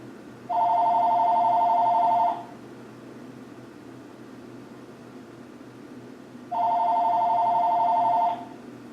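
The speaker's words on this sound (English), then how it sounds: "unplugged my phone. Why is it ringing?" A telephone rings in two electronic trill bursts separated by a few seconds of quiet room hiss, moderately loud and close.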